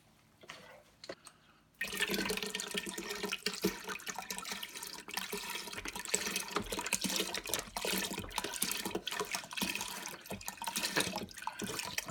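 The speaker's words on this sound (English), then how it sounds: "fill these up with water and add that in there to it." Tap water rushes steadily into a cooking pot for pho broth alongside beef broth, a continuous loud splashing fill after a brief quiet start, with no talking.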